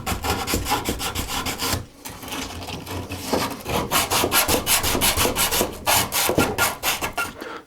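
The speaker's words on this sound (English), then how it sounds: "Sand little dingleberries off the outside. Just kind of scuff up each end." Sandpaper scuffs the ends of PVC drain pipe during a bathroom double-sink plumbing job, a rapid rhythmic back-and-forth rasping that runs close and loud with one short pause.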